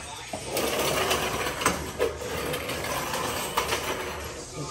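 Steady mechanical whirring and grinding from a broken rear differential on a muscle car, a continuous rattling drone with a few sharper knocks, fairly close.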